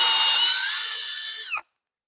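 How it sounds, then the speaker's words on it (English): A drill bores a hole through a fixture for a wooden toy box: a loud, high whine holds steady, then drops in pitch and slows as the bit spins down, ending in a short clunk and then silence. "I just have to drill this."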